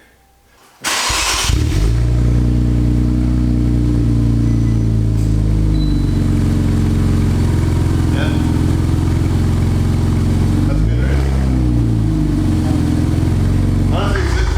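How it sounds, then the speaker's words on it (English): An Infiniti Q50 3.0T with an MBRP exhaust cold-starts remotely at night, a sudden loud crank and flare followed by a deep, steady, close idle with slight fluctuations and no revving. "but first start with the exhaust. We're gonna try remote starting it, but not revving it because it's late at night."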